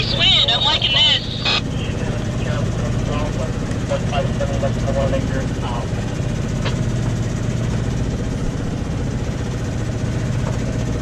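A sailboat's engine runs steadily off the coast between Oceanside and Dana Point, a continuous low hum and rumble that stays constant throughout while people talk over it.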